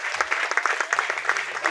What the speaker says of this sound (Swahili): Simpigie Mungu makofi.